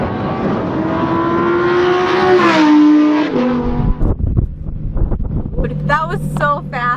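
A Lamborghini Performante on a race track roars past, its engine pitch climbing and then dropping as it passes, with wind buffeting the microphone; people talk over the fading engine near the end.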